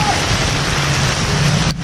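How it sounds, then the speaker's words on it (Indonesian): Heavy rain pours down steadily beneath a bridge underpass, a dense, loud hiss of drops on surfaces that continues unbroken before cutting off abruptly near the end. "Hujan lebat."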